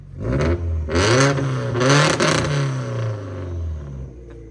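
A Subaru WRX rally car engine revs hard several times in a row, loud and close, rising and falling in pitch with a rough, throaty tone.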